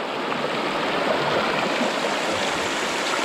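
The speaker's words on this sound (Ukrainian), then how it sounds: "Горна річка." A mountain river in the Carpathian highlands rushes steadily, a broad, continuous wash of flowing water close by with no pauses and no voices.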